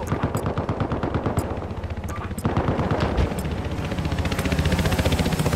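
Rapid automatic gunfire in Battlefield Hardline online play on the Barrios bajos map, with dense bursts rattling continuously and growing heavier toward the end, sharp single shots cutting through.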